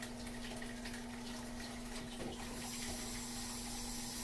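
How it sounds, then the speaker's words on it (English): A small pump circulating rinse water through a vanity pipe as it idles to clean itself, giving a steady faint hum with continuous gurgling and rushing water throughout. "now I'm just going to let that pump sit there and idle, cleaning itself out"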